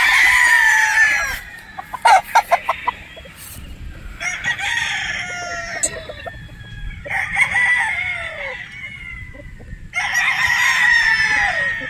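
Boston Roundhead broodstag roosters crowing in repeated bursts, with clucks and short calls between the crows, close and loud over a low background murmur.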